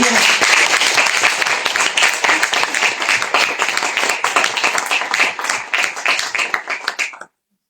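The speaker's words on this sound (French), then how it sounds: "Bravo encore à vous, on peut vous applaudir." Audience applause at the Francophonie 24 awards ceremony, loud sustained clapping from a crowd with a steady rhythmic pulse that thins slightly before stopping abruptly.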